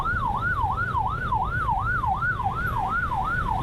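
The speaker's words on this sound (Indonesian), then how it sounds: "Kita dahulukan ambulan ini." An ambulance siren wails steadily in a rapid up-and-down pattern, loud and close, over a low rumble of Jakarta street traffic.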